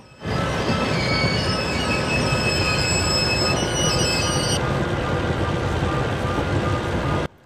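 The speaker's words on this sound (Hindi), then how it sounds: "ब्रेकिंग का जो साउंड है वो यार मतलब ज़बरदस्त है इस गेम में" Train braking in Railway GameZ as it enters a station: a loud, close rumble of rolling wheels with high, sustained metallic brake squeals that cut off abruptly midway while the heavy roar continues.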